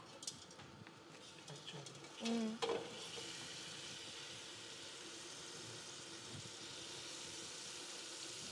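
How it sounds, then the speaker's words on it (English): Food fries in a pan with a soft, continuous sizzle that runs the whole way through, faint and steady, broken briefly by a short clatter and a murmur partway in. "If I just wait, I just fry this one"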